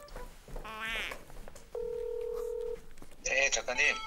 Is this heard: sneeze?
no